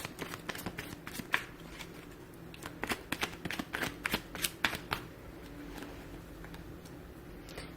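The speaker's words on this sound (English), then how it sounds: "I'll shuffle my cards over here and see what we get for you here" Tarot cards are shuffled close by in quick bursts of crisp riffling and flicking, pausing briefly between passes, with no talking.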